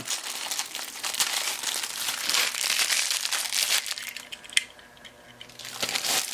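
Cellophane wrapping on a 2016 Matchbox Power Grabs Jaguar F-Type die-cast car package crinkles and crackles continuously up close, with one sharp snap near the end before the rustling briefly quiets and resumes.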